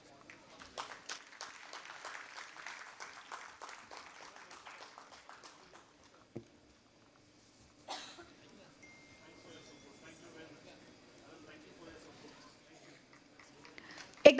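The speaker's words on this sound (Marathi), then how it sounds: "एकदा जोरदार टाळ्या होऊ दे" Audience applause at a Diwali Pahat morning music event, a steady burst of clapping from a crowd that fades out after about six seconds, followed by quieter hall ambience with a few scattered sounds.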